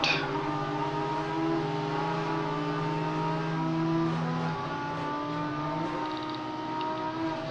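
Audi GT3 race car engine in the Rennsport racing game at Hockenheim, a steady loud harmonic drone with shifting pitch lines as the car holds speed, continuous throughout with no talk.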